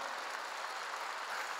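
A church congregation applauds during a sermon, a brief burst of dense, even clapping that fills the room without a break.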